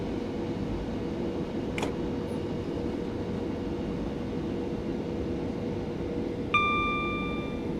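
A Southern electric train coasting through Brighton near Lovers Walk Depot in Train Simulator 2016, giving a steady low rumble of wheels and motors with a brief click and a short tonal chime near the end.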